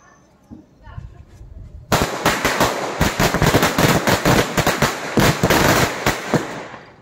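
A rapid string of Lakshmi firecracker explosions during Diwali, loud and close, crackling in quick irregular bursts for several seconds after a brief quiet start.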